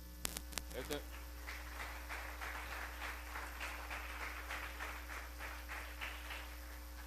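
Church congregation clapping during a sermon, a fairly quiet stretch of scattered applause over a steady low electrical hum, with a few sharp knocks at the start.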